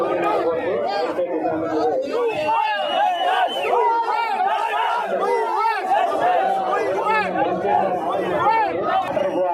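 A large crowd gathered at a vote-counting police drill in Tirupati district, a dense outdoor babble of many voices with shouting, steady and loud throughout.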